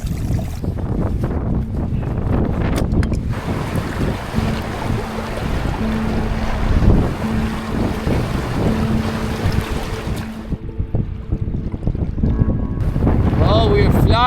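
Strong wind buffets the microphone while sailing in Patagonia, a loud roaring rush with water and boat noise underneath, easing briefly near the end before surging again.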